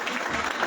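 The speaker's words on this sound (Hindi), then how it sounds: "मैडम के लिए तालियां बजाइए एक बार" Audience at a direct selling motivational seminar clapping, a brief dense burst of applause from a crowd in a hall, steady and fairly loud.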